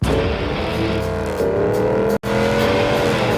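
Ram Hemi V8 engine revving loudly and close, a deep continuous roar that climbs in pitch, is cut off briefly and then resumes, with no talking.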